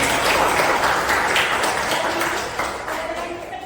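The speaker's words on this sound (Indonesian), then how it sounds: "tepuk tangan dulu" Schoolchildren clapping together in a classroom, a loud, dense burst of applause that stays strong and then gradually thins toward the end.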